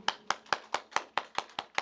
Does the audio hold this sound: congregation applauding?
yes